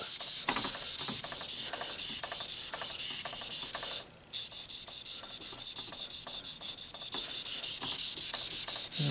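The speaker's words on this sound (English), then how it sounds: "Japanese knives with traditional steels are very easy to sharpen." A Japanese knife of traditional laminated steel is ground back and forth on a whetstone from a three-stone kit, with steady, close rasping strokes and a brief pause near the middle.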